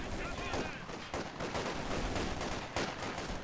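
MG42 machine gun fire in the World War II strategy game Company of Heroes 2, dense and continuous rattling bursts mixed with other gunfire, loud and unbroken throughout, with some talk over the top.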